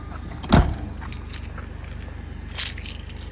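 Car keys jangle briefly and sharply at close range inside a parked car, a single quick rattle followed by soft handling and faint rustling.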